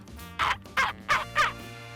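Four raspy, harsh chachalaca calls ring out in quick succession, loud and close, with a faint low background hum between them.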